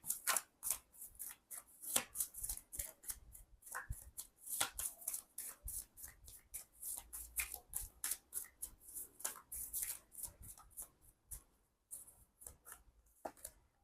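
Rapid riffling bursts of a deck of romance oracle cards being shuffled by hand, repeated crisp flutters at close range in a quiet room with no talking.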